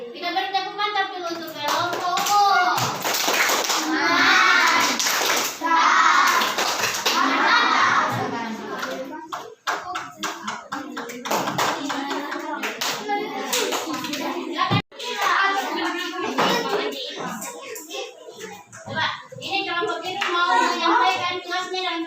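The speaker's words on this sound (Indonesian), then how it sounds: "Kita beri tepuk mantap dulu untuk kelompok umum." Children in a classroom clap together in a rhythmic group cheer to praise a group of classmates, loud and close, with children's voices and talk mixed throughout.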